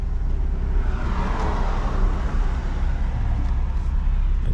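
Nissan 300ZX, right-hand drive with a knock sensor and timing issue, driving with a steady low engine and road rumble from inside the cabin, constant and fairly loud.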